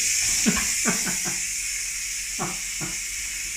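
Steam hisses steadily out of a pressure cooker venting after cooking beef brisket, a broad continuous rush running throughout, with a few short low knocks and clatters standing out over it.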